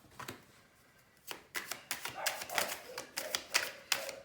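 Tarot cards shuffled and drawn during a psychic reading: a run of crisp, papery flicks and snaps up close, sparse at first, then coming quickly in an irregular rhythm of about a dozen strokes, with no talking.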